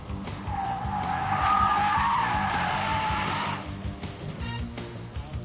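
A 2004 Ford Mustang SVT Cobra with a supercharged 4.6-liter engine squeals its tires hard on a drag strip, a loud, sustained screech with engine roar that peaks midway, then eases into lingering rumble.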